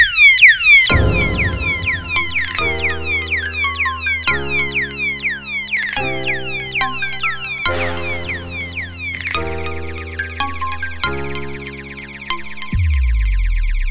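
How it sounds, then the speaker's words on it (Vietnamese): Several anti-theft alarm padlocks shriek at once, loud overlapping electronic sirens of falling whoops and steady tones that start and cut off in turn, forming a harsh, layered din. "đây là chiếc khóa báo động Khi có trộm động vào thì nó sẽ kêu rất là to"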